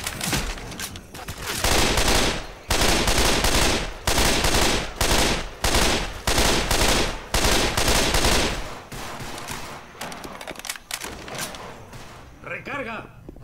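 Rapid bursts of gunfire in the video game Left 4 Dead 2, loud and close, with short pauses between volleys, followed by quieter shots and a brief high whine near the end.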